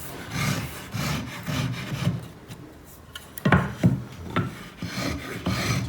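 A woodworker's marking gauge scribes a line on wood for a joinery cut, giving dry rasping strokes in short repeated bursts, close and fairly loud.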